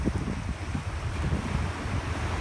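Waves wash in at the shore on a windy walk beside the water, a steady roar of surf and gusting wind buffeting close, continuous and loud with no voices.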